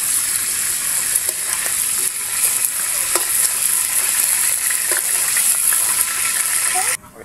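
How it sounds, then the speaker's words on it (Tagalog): Meat sizzles and spits continuously in a hot frying pan during Filipino home cooking of pork dishes. The bright, steady crackle is close and loud and cuts off abruptly near the end. "hintayin muna natin maluto yung kanilang niluluto ni Katsibong Andong"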